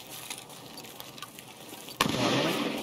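Distant gunfight in Escape from Tarkov: faint scattered pops at first, then a sudden loud burst of rapid gunfire and blasts that keeps crackling to the end.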